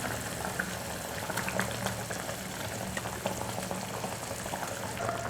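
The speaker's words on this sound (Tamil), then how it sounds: "குழம்பு நல்லா கொதித்து வந்திருக்கு" A pot of bonda kulambu curry bubbles and pops steadily at a low simmer, quiet and close, with no talking.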